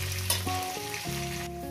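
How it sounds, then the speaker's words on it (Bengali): Potato pieces fry in hot oil for a Bengali fish curry, giving a steady, close sizzle with no talking. "আলুগুলো আমি ভাজার মধ্যে সিদ্ধ করে নেব।"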